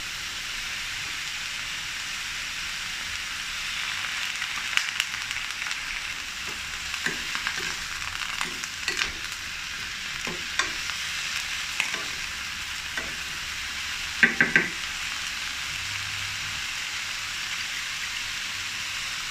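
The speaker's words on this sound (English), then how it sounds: "Stir fry the broccoli florets until tender crisp." Broccoli florets stir-frying in a pan, a soft continuous sizzle with scattered scrapes and clinks of stirring, a short cluster of taps near the end.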